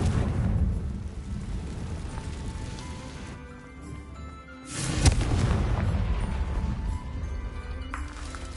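The Confringo blasting spell fires in Hogwarts Legacy, a deep booming explosion bursting out about midway amid a dense, rumbling game soundscape with music.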